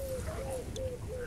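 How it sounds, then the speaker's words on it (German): A giant raven in the video game ZombiU, heard as a few wavering, whistle-like calls repeating over a steady droning game background. "Was für ein riesiger Rabe."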